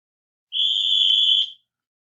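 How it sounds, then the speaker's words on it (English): A coach blows one sharp, shrill whistle during a football play. The blast is close and clean, lasts about a second, and stands alone in silence. "blows a whistle on the play"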